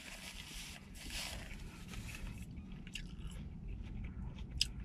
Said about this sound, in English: crunchy, crunchy from the lettuce.